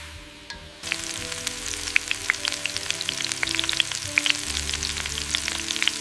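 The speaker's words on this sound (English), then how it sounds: "Stir-fry the pork over medium heat, making sure it cooks evenly and starts to brown." Marinated pork stir-frying in very hot oil, a loud steady sizzle with crackling pops that jumps in suddenly and continues throughout, with occasional clinks of stirring.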